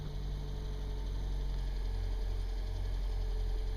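A Toyota Prius Gen II just shifted into drive, giving a steady low hum and faint irregular knocking vibration, close and continuous with no voices.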